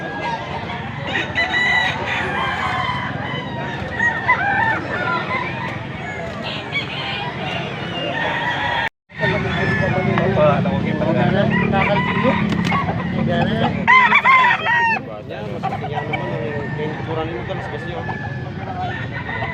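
A young gamecock stag crows repeatedly at a cockfighting-bird market in Angeles, Pampanga, its calls rising over continuous crowd chatter and background clucking, with people talking throughout and a brief dropout midway.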